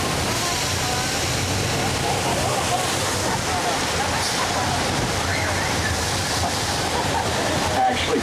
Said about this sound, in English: The flash flood was created by releasing a couple thousand gallons of real water from large tanks over the top of the hill.